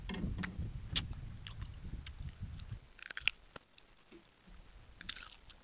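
Close-up crunching and smacking of someone chewing sour mango, irregular moist bites, louder at first and then quieter with scattered clicks, no talking.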